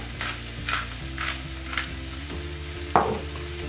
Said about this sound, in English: we're going to cook the shrimp until the shrimp is pink all the way through